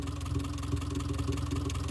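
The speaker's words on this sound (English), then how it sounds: "I think that's fuel injector noise. Clicking away." A Subaru Forester engine idles steadily with a fast, light ticking running over the low hum, close and moderately quiet, no voices.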